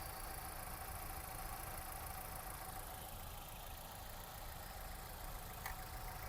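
A 2016/17 Maruti Swift VXi petrol car engine idles quietly and evenly, a soft, constant low hum with no revving and no voices.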